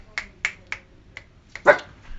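A dog indoors in an apartment gives a quick series of short, sharp barks, ending with one louder, fuller bark, fairly close and with no talk over it.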